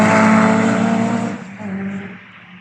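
Lotus VX220 and Caterham 7 track cars at Cadwell Park, a loud close exhaust roar with rising revs that fades as the car moves away, then a second fainter engine note trailing off.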